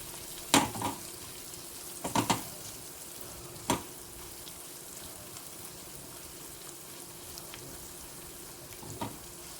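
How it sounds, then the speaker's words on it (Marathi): Homemade spice masala sautéing in a pan, a soft, steady sizzle broken by a few sharp spatula knocks and scrapes against the pan, heard up close. "आणि या थोडंसं मी घरचा मसाला टाकते. हे व्यवस्थित परतून घेऊया."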